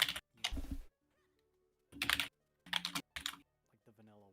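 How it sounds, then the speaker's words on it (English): Quick bursts of computer keyboard typing come in short clusters separated by silences, close and fairly loud, with no other sounds around them. "Hendrix, we can hear you typing"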